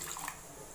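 Water pours briefly into a grinder jar holding instant dosa batter ingredients, a soft, close liquid splash and trickle lasting under a second with no talk.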